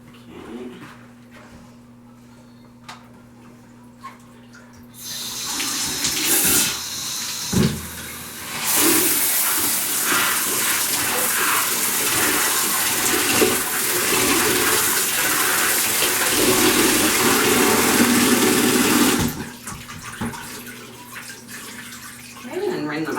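A shower head sprayer blasts water onto soiled cloth diapers over a toilet, making a loud, steady hissing spray that lasts about fourteen seconds between quieter handling sounds.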